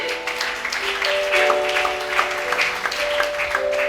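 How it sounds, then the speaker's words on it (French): A church congregation applauds steadily, the clapping dense and sustained at a moderate distance, with sustained musical tones running beneath it. "Acclamons la parole de Dieu"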